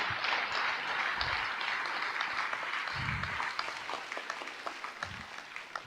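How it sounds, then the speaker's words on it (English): A graduation-ceremony audience applauding graduates of a charitable nursing college, a broad sustained clatter of many hands that slowly thins toward the end, heard from a distance in a large hall, with a few muffled low thumps. "Audience, please give a big round of applause to all our graduates."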